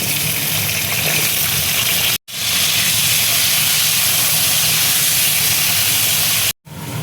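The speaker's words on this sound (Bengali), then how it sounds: "তেলের মধ্যে আমি আলুটা দেখো দিয়ে দিচ্ছি" Potatoes sizzle in hot oil in a home kitchen while a festival vegetable dish is cooked, giving a loud, steady, close hiss that runs almost unbroken, with two brief dropouts.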